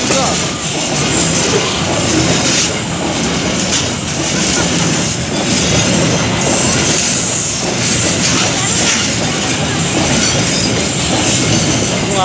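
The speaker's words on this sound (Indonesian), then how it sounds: "Dengan lokomotif HUT RI 77 kemerdekaan dengan lokomotif CC-06-1372 depo induk CPN." Loaded coal freight train hauled by a CC 206 locomotive passing close by at an Indonesian railway line, a loud continuous roar of wheels and wagons rumbling past with rhythmic clatter and faint squeal throughout.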